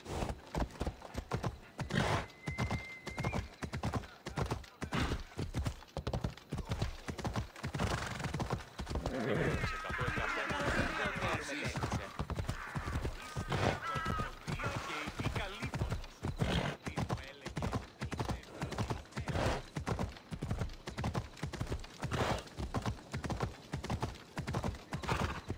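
Steady clip-clop of a horse's hooves as the rider gallops in Assassin's Creed Odyssey, a continuous close rhythm lasting throughout with a whinny partway, and a voice talking over it.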